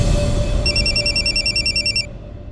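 A telephone rings in repeated trilling bursts over a steady low room hum, clear and close, then stops abruptly before a Delhi police crime drama call is answered.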